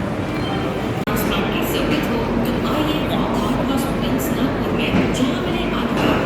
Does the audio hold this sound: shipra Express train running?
yes